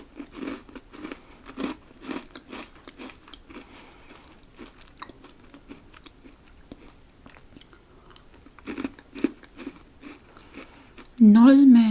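A white chocolate biscuit is bitten and chewed close to the mic, with sharp crunches followed by a run of rhythmic chewing, a second burst of crunching later, and a loud noise at the very end.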